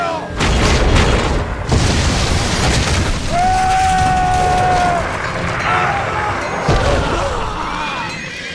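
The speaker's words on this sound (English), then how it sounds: "The enemy catapults are wrecking ours!" Siege catapults in the Ancestors Legacy battle game hurl and smash, making loud, continuous booming crashes with heavy impacts and rumbling debris close up, and a brief whistling tone in the middle.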